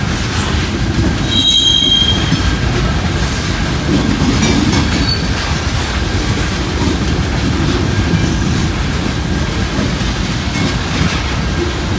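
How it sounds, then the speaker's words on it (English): A long CSX freight train rolls past in the rain, its wheels giving off a sharp, steady squeal as they cross a newly installed rail switch, with a constant rumble of wagons and a brief high shriek early on. "There's that new switch squeal."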